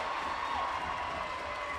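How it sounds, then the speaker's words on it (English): A high school girls' basketball crowd at a sub-state game roars after a block and a made basket heading into a timeout, a loud, continuous wash of cheering and clapping with a voice mixed in. "the crowd explodes like Krakatoa again"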